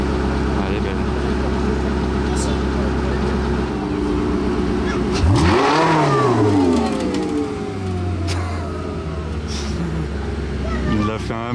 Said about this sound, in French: Il a fait un burn avec la 918. Burn place du Casino avec la 918 Spider.